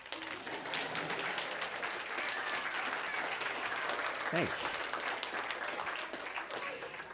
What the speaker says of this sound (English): I love milking the applause.